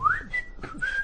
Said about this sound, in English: you were whistling after you had your go as well